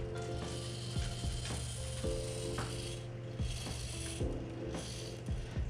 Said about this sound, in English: The sideways movement's a little bit jerkier than I would like. I think that's more to do with the servo than anything else.